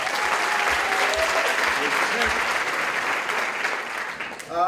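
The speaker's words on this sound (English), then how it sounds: "By applause, how many people have ever been to a West Side Stories before?" Audience at a West Side Stories storytelling event bursts into sustained applause, a dense, even roar of clapping that holds steady before tapering near the end.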